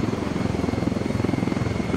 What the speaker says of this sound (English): This helicopter's too quick.